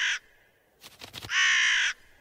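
A crow caws twice, loud and close, with a brief rustle between the calls.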